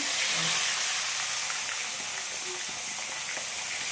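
Pieces of fish fry in hot oil in a pan, producing a continuous bright hiss and sizzle that stays fairly even and close, with a few faint pops and no talk.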